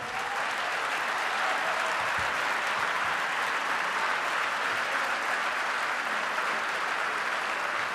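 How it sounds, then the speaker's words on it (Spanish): Audience at an international forum on emancipation and equality applauds to welcome Noam Chomsky, a dense continuous clapping that holds steady and loud for the full eight seconds. "Le damos la bienvenida a Noam Chomsky con un fuerte aplauso."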